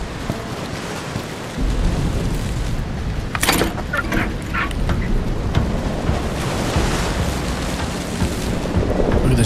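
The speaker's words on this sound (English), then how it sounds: "Look at the storm. It's really bad." Video-game storm with heavy rain and booming thunder, a dense roaring wash with crackling bursts near the middle, fairly loud and steady with crashing waves, no talk over it.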